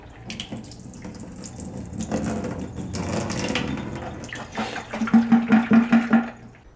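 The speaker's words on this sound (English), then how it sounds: "let me pour out the dirty water and show you how to clean this" Dirty gray water poured from the tank of an old iRobot Scooba floor-scrubbing robot into a sink, a steady splashing stream that swells midway and ends in a run of gurgling glugs as the tank empties.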